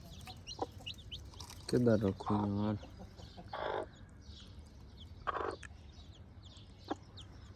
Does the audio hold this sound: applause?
no